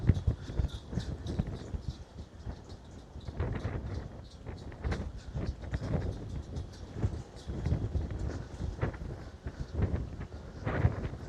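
Gusty wind buffets the microphone with low rumbling bursts, rising and falling throughout, accompanied by faint clopping sounds, on a street in Ponta Delgada, São Miguel, Azores.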